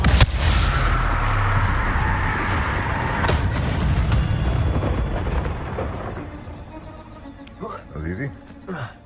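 Confringo blasting spell exploding in Hogwarts Legacy, a loud rumbling blast that fills the first few seconds and then trails off into quieter game ambience with a few softer crackles near the end, with talk over it.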